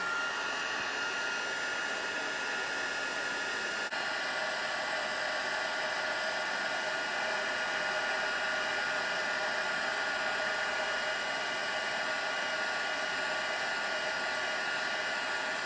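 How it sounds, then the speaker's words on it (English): A heat tool drying and setting ink on a handmade card blows with a steady, loud, broadband whoosh throughout, unbroken and with no talking. "So we're going to heat that with the heat tool to set it."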